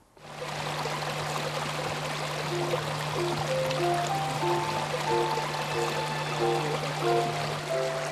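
River water flows in a steady, full rush, close and continuous, with a low constant hum and faint tonal notes running beneath the water.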